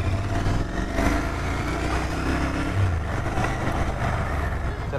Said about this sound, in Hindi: इसका ओरिजिनल साइलेंसर है ना, अलग वाला अलग से नहीं लगवाए हम, इसलिए वो शोर मचाता है।